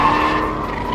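Jaguar F-Type R tyres skidding as the car corners too fast, a sustained, loud squeal with steady tonal whine held over engine rumble for the whole second, no talk.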